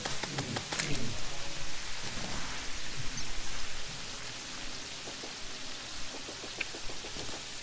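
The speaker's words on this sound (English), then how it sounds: "I did not know the rain's gone red as well." Blood-moon rain in the video game Terraria, a steady hiss of falling rain with faint scattered drops, holding evenly throughout and easing slightly in volume partway through.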